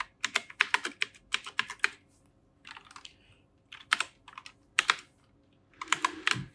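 Fingers type on a computer keyboard in quick bursts of close, crisp keystrokes with short pauses between them, as an address is entered.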